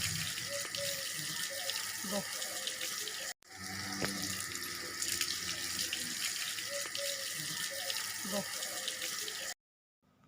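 Water runs and splashes steadily while a cow is washed outdoors near a tree, a continuous close gushing sound that briefly cuts out twice.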